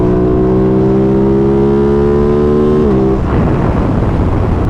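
Loud, sustained high revving from a 2021 Aprilia RS660 motorcycle engine held against its rev limiter, then the revs drop away abruptly near the end.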